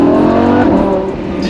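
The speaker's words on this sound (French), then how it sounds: "là, les petites accélérations, je ne dépasse pas les 6000 tours minute et la zone rouge est à 9000 quasiment" Lamborghini four-wheel-drive sports car engine revving up in short, loud bursts close by, a continuous throaty roar that holds steady for the full span before easing slightly at the end.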